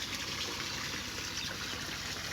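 Water pumping steadily out of an Auto Spin Clean 50 filter, a continuous close rushing trickle with no break and no talking.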